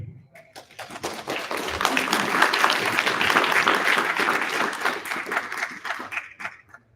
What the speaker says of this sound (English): Please give a round of applause again for our Professor Wei